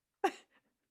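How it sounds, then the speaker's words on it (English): A single sharp sneeze bursts out close by, followed by a faint short exhale, then silence. "I gotta sneeze."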